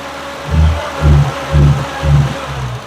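A car engine in a shop being revved for a running check, with about four rhythmic surges at regular intervals over a steady idle rumble, loud and close, with no talking.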